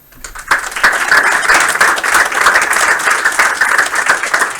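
A team claps for an excellent sprint at a game studio build review, the applause starting sharply after a brief quiet moment and then holding as a lively, close patter of many hands.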